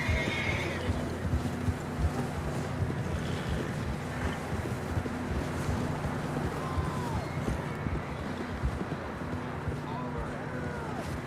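Horses whinny and snort over a steady rush of wind and hoofbeats in the game Red Dead Redemption 2, with galloping movement throughout and no clear talking.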